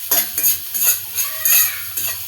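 Spice paste frying in a pan for sweet corn, stirred with a utensil: repeated scraping and clinking strokes at a steady rhythm over a soft sizzle, close and moderately loud, no talking.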